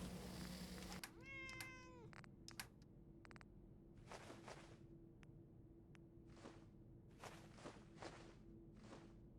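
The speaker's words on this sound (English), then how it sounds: "Cat." A cat in Fallout gives a few short meows, then footsteps tap intermittently at low level over a faint steady hum, with no talk.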